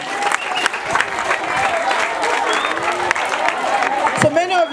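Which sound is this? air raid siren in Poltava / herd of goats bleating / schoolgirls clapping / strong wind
schoolgirls clapping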